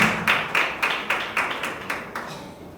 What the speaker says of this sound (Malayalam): നല്ല കയ്യടികൾ പ്രിയ കുഞ്ഞുങ്ങൾക്ക് കൊടുക്കാം.